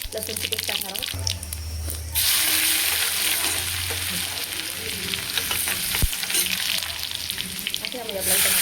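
Ginger garlic paste sizzling and frying in hot oil with mustard seeds, a loud continuous crackle with occasional stirring clatter, and a voice talking over it.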